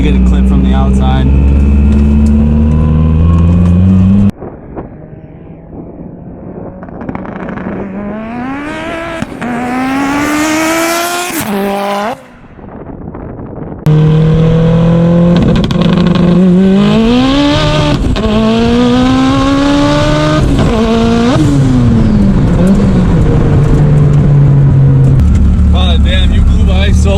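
A 1000-horsepower Mitsubishi Evo screams past at speed, its engine note rising and falling through several loud gear sweeps, briefly cutting out, then roaring again close by with a few sharp pops.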